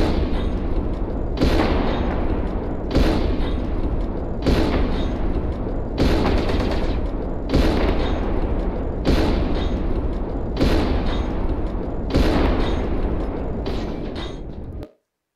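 LB autocannons in the video game MechWarrior Online fire again and again, each loud, booming burst landing in a steady rhythm roughly every one and a half seconds, with a constant mechanical rumble underneath.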